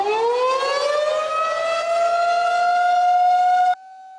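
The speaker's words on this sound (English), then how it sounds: "Some of you might have been a bit surprised to hear the severe weather sirens sound this afternoon and evening." A severe weather civil defense siren sounds during a drill, a loud steady wail that rises in pitch and then holds before cutting off abruptly into a quieter lingering tone.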